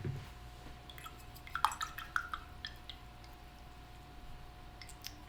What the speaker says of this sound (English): Gonna wash the brush.